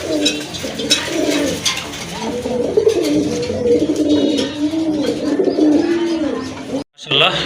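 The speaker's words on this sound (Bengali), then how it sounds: "এটা হচ্ছে নর কবুতর আর ডান পাশে এটা কিন্তু মাদি কবুতর" A pair of pigeons, a male and a female, coo continuously in low rolling, warbling phrases, close and loud throughout, with a brief dropout near the end.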